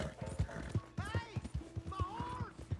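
Horse hooves clip-clopping at a steady walking rhythm in Red Dead Redemption 2, with in-game voices talking over the hoofbeats.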